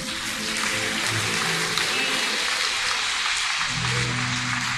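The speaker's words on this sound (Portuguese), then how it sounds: "eu queria que você aplaudisse ao Senhor que está aqui" A church congregation applauds during a Sunday morning service, a loud, dense, sustained wash of clapping filling the room, with faint low voices or music underneath.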